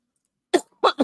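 Two or three sharp, close coughs in quick succession after a moment of silence.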